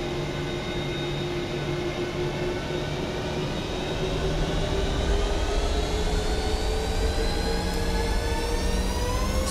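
Airliner jet engines in a flight simulator spool steadily up to takeoff thrust, a loud continuous roar with a whine that climbs in pitch over several seconds and no talking.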